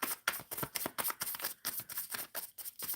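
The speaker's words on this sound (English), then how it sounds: "let's give it a good shuffle" Tarot cards are shuffled in quick repeated riffling bursts, a crisp rhythmic flutter of close, soft snaps with brief gaps between them.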